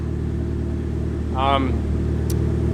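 A Nissan SR20DET-engined car idles with a low, steady rumble and exhaust drone, and a brief voice-like tone rises over it midway.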